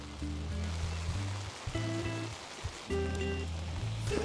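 Rain falls steadily at a campsite in Yeongwol, Gangwon Province, a dense continuous hiss that runs the whole time, with sustained tonal notes layered over it.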